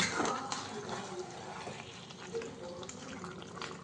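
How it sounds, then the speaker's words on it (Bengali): Warm water poured into a pot of coriander chicken curry, a quiet running, splashing pour with faint bubbling, close and low in level. "তাই একটু উষ্ণ গরম জলের ব্যবহার করব"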